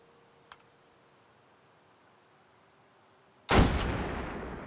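A single loud sniper rifle shot in the VR shooter Hot Dogs, Horseshoes & Hand Grenades booms out with a long fading tail, after a quiet stretch with one small click.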